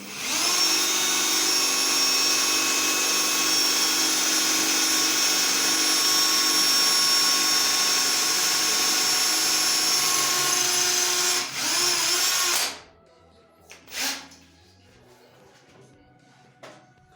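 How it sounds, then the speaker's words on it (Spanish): A power drill whines steadily at high speed for about twelve seconds while boring through ceramic tile, then cuts off, followed by a brief burst and quiet clatter. "le podemos aumentar la velocidad al taladro, ¿sí? Para que siga perforando más rápido."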